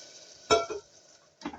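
Water is poured into a hot pressure cooker of cluster bean curry with jaggery, giving a sharp hissing sizzle, a second short splash of hiss following a moment later.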